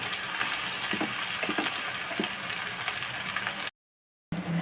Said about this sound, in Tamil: வெங்காயத்தை நல்லா ப்ரௌன் கலரில் கொடுத்துருவோம்